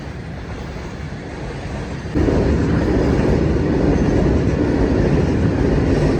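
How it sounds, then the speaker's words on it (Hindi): Train passing a closed railway level crossing near Bikaner, Rajasthan, a broad rumbling roar that swells suddenly partway through and holds steady and loud, with wind buffeting and no talking. "ट्रेन भी आ गई।"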